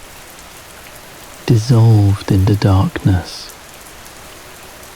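Rain falls in a soft, steady hiss throughout, while a calm voice speaks briefly in the middle.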